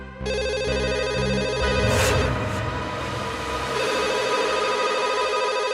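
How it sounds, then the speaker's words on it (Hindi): A telephone rings at night in a crime drama scene, its steady electronic ringing repeating over background music with brief swells, no talk heard. "इतनी रात को कौन फोन कर रहा है?"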